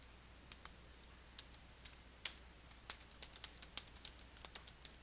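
Typing on a computer keyboard: sparse, crisp key clicks that quicken into a faster irregular run, close and fairly quiet, with no voice.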